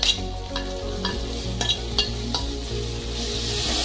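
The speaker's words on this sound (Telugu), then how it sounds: "ఆనియన్, ఎల్లిపాయలు, పచ్చిమిర్చి ఇవన్నీ బాగా ఫ్రై అయినాయి. ఇప్పుడు ఇందులో మనం టమాటాలు వేసుకుందాం." Onions, garlic and green chillies fry in a pan as tomatoes go in, with a steady sizzle broken by several sharp scrapes and clanks of a spoon stirring against the metal.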